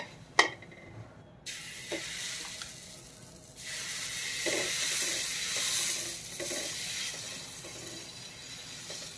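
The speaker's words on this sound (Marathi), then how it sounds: "ह्याला चांगलं दाबून दाबून असं चांगलं खरपूस भाजून घ्यायचंय" A bottle gourd dosa sizzles steadily on a hot pan as it is pressed down and roasted crisp, a close hiss with a few soft taps and scrapes and no talk.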